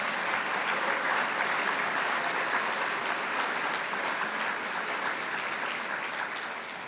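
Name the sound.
dinner audience applause for Vic Atiyeh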